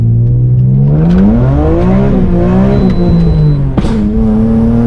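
A loud BMW M235i engine revs up and down close by, its pitch rising and falling, with a sharp mechanical snap near the end.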